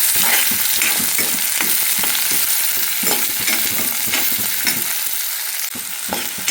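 Onion sautéing in a pan after cumin seeds, for a pigeon pea curry: a steady, loud sizzle and hiss throughout with repeated scraping stir strokes, no voices.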